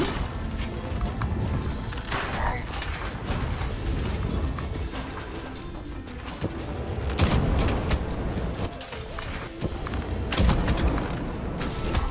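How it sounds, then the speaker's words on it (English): Bombs explode repeatedly in the dungeon game Rogue Legacy 2, dense booms and crackling bursts mixed with game music and mechanical effects throughout. "bombed again. I keep getting bombed"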